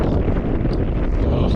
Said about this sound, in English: Yeah, there's a fair old wind.